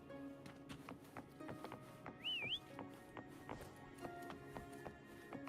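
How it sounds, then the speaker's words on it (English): A short rising-and-falling whistle sounds once to call a mount in Wuthering Waves, set over soft game music and tapping footsteps. "Try whistling."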